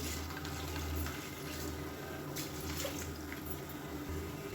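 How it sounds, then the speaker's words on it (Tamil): Half a litre of milk is poured into a pressure cooker for mushroom biryani, a faint, steady liquid stream running for several seconds without speech. "இப்போ இதில் வந்து நல்லா ஒரு 1/2 லிட்டர் பால் சேர்த்துக்கலாம்."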